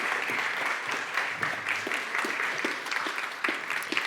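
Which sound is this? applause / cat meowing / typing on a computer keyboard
applause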